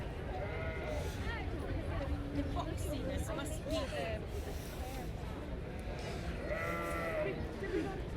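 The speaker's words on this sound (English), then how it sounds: "Look at the quality in them sheep." Dutch Spotted sheep in a show ring at the Royal Highland Show bleat several times over a steady crowd murmur, with people talking nearby throughout.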